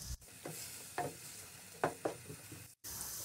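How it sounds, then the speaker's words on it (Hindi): Finely chopped onions fry in oil for a beef karahi gosht, a steady sizzle broken by several brief scraping stirs of the pan, close and moderately loud with no talking. "प्याज को हम तब तक फ्राई करेंगे जब तक इसमें लाइट गोल्डन कलर ना आ जाए।"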